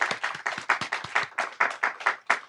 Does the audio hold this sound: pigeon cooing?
no